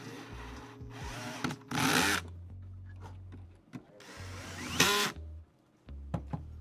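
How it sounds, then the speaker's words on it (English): A power drill whirs in several short bursts while a 360mm AIO liquid CPU cooler is installed in a PC, the whines rising and stopping between quieter clicks and handling noises. "I hope my drill is also louder."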